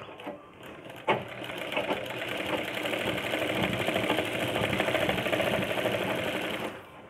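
Sewing machine stitching a blouse runs in a steady, continuous whir with a rapid mechanical patter, close and fairly loud, starting with a brief clunk and running almost the whole time without talk.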